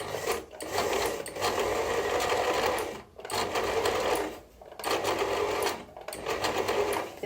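A small portable electric sewing machine runs in several bursts, a close rapid mechanical whirring and clatter that starts and stops with short gaps between runs; no one speaks.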